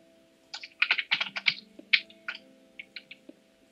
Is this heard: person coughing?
no